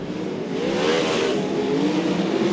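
Sprint car engines roaring around Archerfield Speedway, a loud sustained engine drone whose pitch sweeps up and down as the cars race past.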